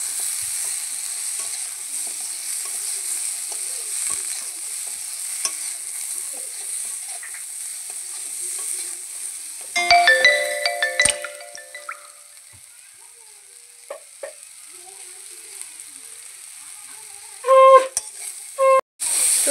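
Okra and shrimp sizzle softly in a pan as a steady background hiss, broken by clattering bursts of a spatula scraping and stirring, with a few louder knocks near the end.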